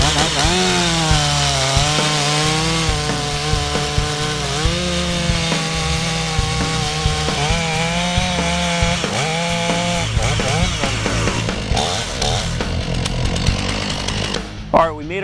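A chainsaw roars loudly and continuously while making a face cut in a standing tree, its engine pitch dipping and rising under load for about ten seconds before easing off near the end.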